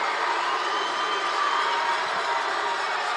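Basketball crowd in an arena roaring at a free throw shooter during a Toundra Montréal vs Five Sudbury game, a loud, continuous wash of shouting and cheering with no single voice standing out.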